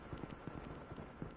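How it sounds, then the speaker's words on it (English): Footsteps in a Call of Duty multiplayer match, a faint run of quick, regular thuds like someone running nearby. "I hear a bunch of footsteps."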